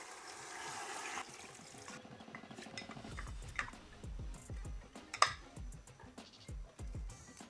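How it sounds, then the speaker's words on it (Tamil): Water is poured into a soup pot for a beef bone soup, giving a brief rushing stream at the start, followed by scattered clinks and knocks of pots and utensils, with a voice talking quietly. "தேவையான அளவு தண்ணி ஆட் பண்ணி கொள்வோம்"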